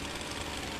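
Chainsaw in the Fortnite video game running with a steady, dense engine drone, loud and continuous throughout the short stretch with no talk over it.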